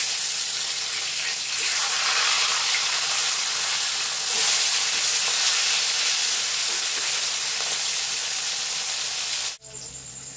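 Fish frying in oil for a Bengali fish dish makes a loud, constant hissing sizzle, close and even from start to finish, then cuts off abruptly near the end.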